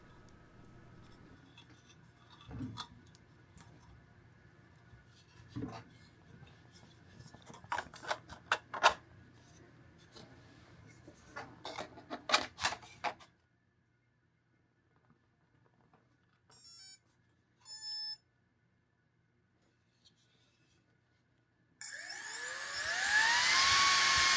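A turbine fan built from an old drone motor spins up loudly, a rising whine over a rush of air that arrives abruptly after scattered clicks, taps and quiet gaps.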